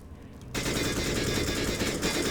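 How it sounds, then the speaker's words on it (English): Rapid automatic gunfire shot through a wall in a competitive video game match, bursting in loud and sustained after a brief quiet start. "Great wall bang as well."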